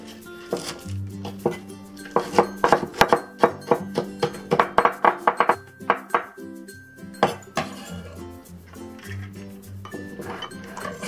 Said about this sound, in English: Let's also mince the green onions.